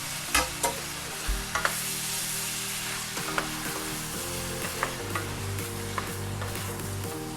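Cubed leftover turkey, dark and white meat, heating in a pan with jalapenos and red onion, a steady sizzle with regular spoon clicks and scrapes as it is stirred.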